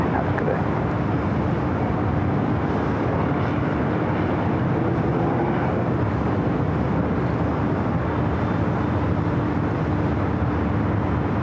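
A Boeing 747 taxiing on taxiway Alpha at LAX gives a steady, broad jet-engine roar and whine, distant but constant, with no breaks.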